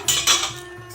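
A bowl lifted out in a home kitchen while cooking shukto, with a couple of bright clinks of crockery and cutlery in quick succession, close and clear, then fading out.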